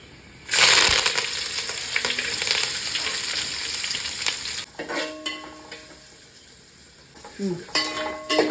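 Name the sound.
garlic, onion, curry leaves and chillies frying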